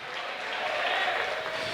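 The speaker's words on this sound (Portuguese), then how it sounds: "Aplauda esse Deus tremendo." Applause from a church congregation during a Portuguese-language worship service, a brief steady patter of clapping at moderate distance with no talking over it.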